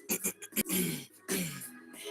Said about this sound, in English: as I clear my throat